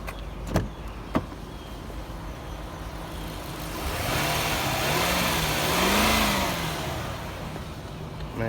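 A Lexus LS430 V8 idles quietly after a couple of sharp clicks, then gets a single smooth rev that swells and falls back over a few seconds, fairly near and with no talking.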